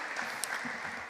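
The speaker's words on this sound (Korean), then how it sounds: "우리 다시 한번 여러분 격려의 박수를 좀 부탁드리겠습니다." A church congregation applauding in encouragement during a Sunday worship service, a brief, fairly quiet patter of clapping lasting about a second.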